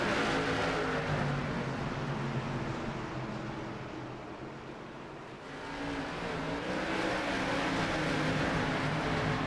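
Race cars roar off the green flag at Southern National, a dense pack of engines revving hard and close, dipping briefly before surging back to a loud sustained blare.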